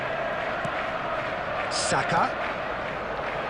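Steady roar of a football stadium crowd at an Arsenal vs AC Milan friendly in the video game Football Life 2025, a broad continuous murmur that swells briefly, with a commentator speaking over it.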